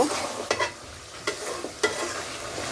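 Beef being stirred in a hot pan, with several distinct scraping strokes over a steady low sizzle, close and fairly loud.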